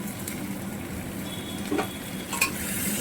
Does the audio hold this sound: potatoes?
yes